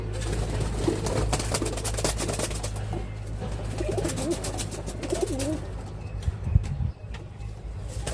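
Pigeons in a loft, among them a white homer, coo repeatedly in soft overlapping phrases, close by and steady, with occasional wing flaps and shuffling around them.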